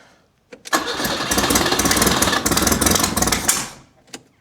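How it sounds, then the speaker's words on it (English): An old Renault 6 engine with a major exhaust manifold leak cranks and catches, running roughly with a loud, ragged, sputtering note for about three seconds before dying away, close by. "Definitely got a major exhaust leak, manifold leak"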